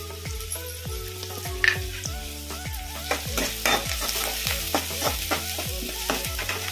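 A cut dried red chilli goes into a pan of frying onions for aloo 65 and is stirred: loud, close sizzling with a quick, regular rhythm of scraping strokes, and no voices.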